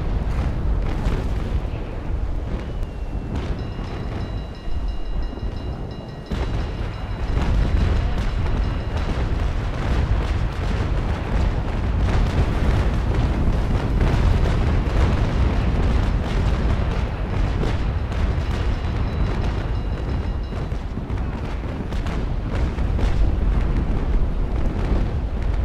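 Naval ships trading cannon fire in the video game Naval Action, a continuous low rumbling roar of booms and blasts with no clear pauses throughout.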